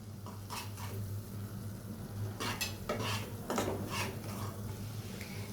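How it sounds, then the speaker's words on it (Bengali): A utensil stirs and scrapes cumin and garam masala pastes in a pan for an omelet masala curry, giving scattered metallic clinks over a steady low cooking hum, close and with no talk. "আমি আবার মশলাটাকে কষিয়ে নেব। এখন আমি দিয়ে দিব জিরা বাটা আর গরম মশলা বাটা।"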